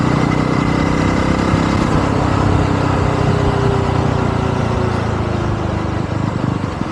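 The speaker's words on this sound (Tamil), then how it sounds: "வண்டி நான் 3வது கியர் 4வது கியரில் தான் போயிட்டுருக்கேன்." A 2025 Yezdi Roadster motorcycle cruising in third and fourth gear gives a steady, loud, continuous engine drone with wind rush, unbroken throughout and with no voices.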